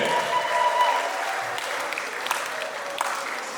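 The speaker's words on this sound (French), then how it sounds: "Mesdames et messieurs, acclamez l'entrée du parrain et la marraine." A crowd at a reception applauds the entrance of the godparents, steady sustained clapping throughout with scattered cheers mixed in.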